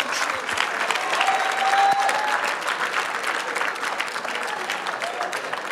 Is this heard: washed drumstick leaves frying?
no